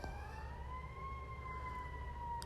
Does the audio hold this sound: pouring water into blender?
no